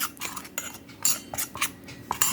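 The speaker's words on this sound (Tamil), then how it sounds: "அந்த பன்னீரை கொஞ்சமாக இதில் ஆட் பண்ணி மிக்ஸ் பண்ணணும்" A face pack paste is stirred with rose water in a bowl, a spoon clinking and scraping against the sides in quick, irregular strokes, close and clear with no voices.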